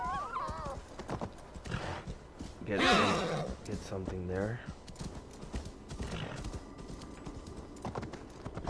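Horse hooves clip-clop and a horse neighs in Assassin's Creed Valhalla, with rhythmic hoofbeats running under a man's speech and a loud whinny rising midway.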